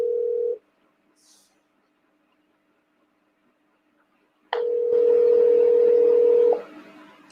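A steady telephone dial tone sounds briefly at the start, then returns loud and continuous for about two seconds after a long silence, as a call is placed to continue an interview by phone.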